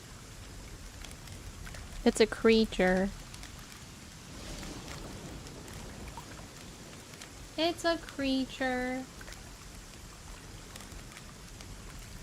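Steady rain falls on a night in the video game ASKA as a continuous soft hiss under the whole stretch, with a person briefly talking twice over it.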